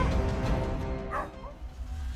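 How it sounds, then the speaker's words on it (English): A dog barking at a leopard in the wild, a few short loud barks and yips near the start, then fainter whimpering noises, close and unaccompanied by talk. "only bark loudly to threaten the leopard"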